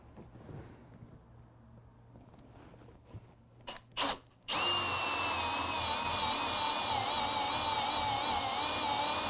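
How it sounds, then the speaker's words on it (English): A Forstner bit drills an inch-and-a-quarter-deep hole into wood in a home garage. After a few quiet seconds and some handling knocks, a loud, steady whining drill motor starts and runs continuously up close. "I'm just going to drill a hole, not all the way through, but about an inch and a quarter deep"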